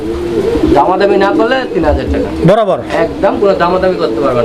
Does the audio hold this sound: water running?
no